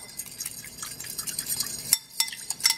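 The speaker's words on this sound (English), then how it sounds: "So I'm going to be whisking this together" A whisk stirs oyster sauce and low sodium soy sauce together in a bowl, a quick, light clicking and sloshing that ticks along steadily and stays close, with no talking.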